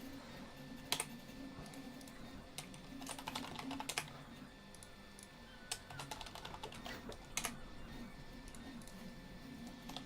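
Rapid typing on a computer keyboard while entering shortcuts in Fusion 360 CAD software, a steady run of close, crisp key clicks with a few louder strokes, no talking.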